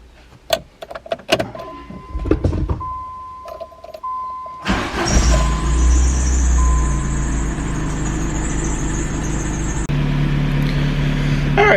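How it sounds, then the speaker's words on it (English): A 1986 Plymouth Voyager minivan with its original 2.2 liter engine idles on a dyno after some clicks and starting noises, settling into a loud, steady hum with a hiss that holds to the end. "Alright, so we have the minivan started now, and we're going to let it warm up a little bit."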